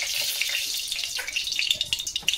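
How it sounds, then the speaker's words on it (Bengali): Mustard oil heating in a hot kadai hisses and crackles with a steady bright sizzle and scattered sharper pops toward the end, close and moderately loud, with no talking. "তো কড়াইয়ের তেলগুলো ফটফট করে ফাটছে।"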